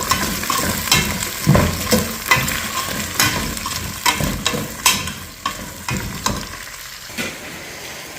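Onions and potatoes stirred together in a hot frying pan, with steady sizzling and repeated scraping strokes of a spoon close by, no talking.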